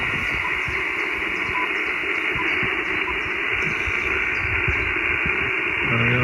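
Steady hiss and crackling interference fill an amateur radio receiver at a portable park activation in Lodmoor Country Park, a continuous, even noise floor with no voices.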